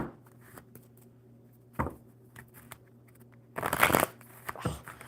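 Playing cards are shuffled nearby: a short rustle, then a quick, crisp riffling burst, with quiet pauses between.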